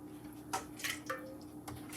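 Water sweated out of Jamaican jerk beef being poured off an oven pan, heard as a few soft drips and splashes against metal, close and quiet, with no talk.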